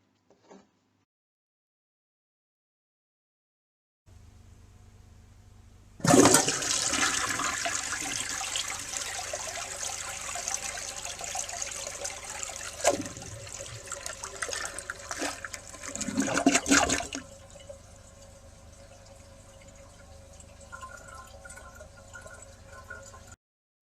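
A 1954 Eljer Waco toilet is test-flushed: a faint click and quiet hiss, then a loud rushing flush with gurgling surges that fades into a steady trickle as the tank refills.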